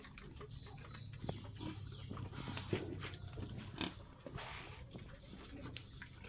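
Crossbred wild boar pigs on a farm grunting and snuffling, with scattered low grunts and a few sharper squeals over a continuous noisy background, fairly faint.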